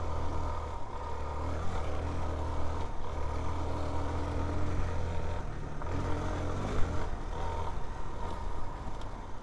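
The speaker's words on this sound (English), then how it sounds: "we got some intake noise that I have mentioned in one of those other videos" Suzuki DR-Z4S motorcycle ridden in ride mode A, a steady low engine and intake drone running continuously without pauses, close and moderately loud with wind noise over it and no talk.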